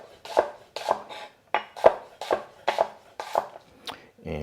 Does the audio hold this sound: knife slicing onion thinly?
yes